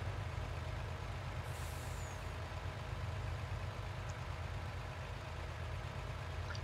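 A truck in Farming Simulator 22 rumbles with a steady, loud low engine drone throughout, with a brief hiss of air brake release near the start.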